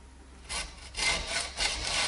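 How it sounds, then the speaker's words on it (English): Hacksaw cutting into the metal spine of a Cold Steel Recon 1 XL folding knife handle along the locking bar: three slow, even rasping strokes, close and clear. "I am making precision cuts with a hacksaw into the spine of the knife handle along the locking bar"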